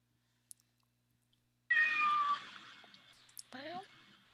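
A cat meows twice indoors: a drawn-out, fairly loud meow, then a shorter rising one after a brief pause, against a quiet background with a few faint clicks.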